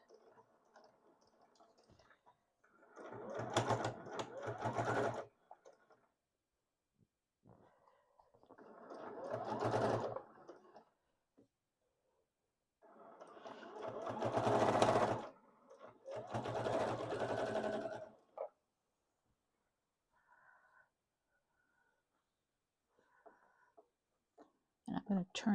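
A sewing machine stitching quilt binding on a table topper in several bursts, running in stretches of a few seconds with pauses between, including a couple of short back stitches near the end.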